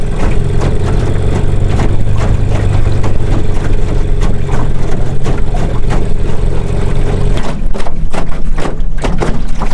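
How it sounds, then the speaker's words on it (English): An outboard motor on a jon boat idles steadily while warming up on a lake, a loud, even engine drone with a rough rumble that lightens slightly near the end. "I'm just letting the engine warm up for a minute here"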